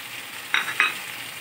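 Ginger, chilli and garlic paste sizzles softly in a hot pan, broken by two quick scraping stirs close by, then settles back into a steady low fry.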